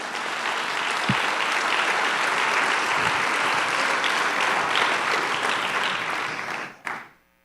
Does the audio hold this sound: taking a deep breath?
no